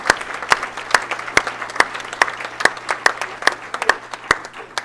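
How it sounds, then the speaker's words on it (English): Audience at a 2011 sports banquet applauds the winter sports winners, a sparse room of scattered hand claps with some sharp individual claps standing out, fairly faint and uneven over a low steady hum. "How about a great big round of applause for all of our winter sports winners"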